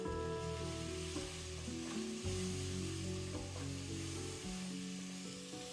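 Coriander powder and garam masala stirred in a hot pan, sizzling steadily and close with light scraping from the stirring over a low background hum.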